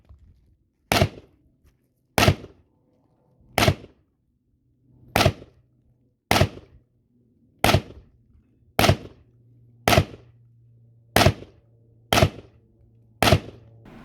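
Real-life gunshots fired slowly and one at a time to test bullet spread: eleven sharp, loud cracks spaced about a second apart, each cutting off quickly, with a low steady hum and very little between them.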